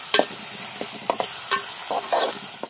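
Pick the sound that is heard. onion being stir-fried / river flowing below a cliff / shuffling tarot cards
onion being stir-fried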